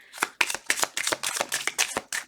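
Tarot cards riffled over and over in quick, crisp bursts, about nine flurries in a steady rhythm, close by, with no talking.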